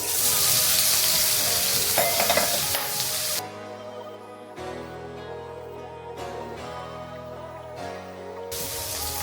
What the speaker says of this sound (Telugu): ఆయిల్ అనేది వేడి అయిపోయింది మనం పన్నీర్ వేసుకున్నాం దీంట్లో